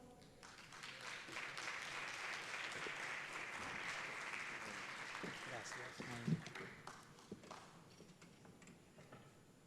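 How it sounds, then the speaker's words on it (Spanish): Audience applause at a Latin American conference session, a steady wash of clapping lasting several seconds, fairly quiet and distant, with a few louder claps near the end. "Les damos un fuerte aplauso."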